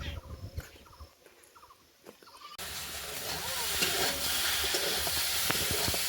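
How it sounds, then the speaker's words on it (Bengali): Taro stolons, crab and potato cooking in a pan. After a few quieter seconds of scattered household noises, a loud, steady sizzling hiss takes over and continues to the end. "এটা কি রান্না হচ্ছে? লতি আর কাঁকড়া আর আলু।"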